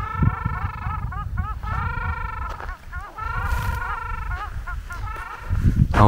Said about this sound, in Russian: Чаечки где-то орут.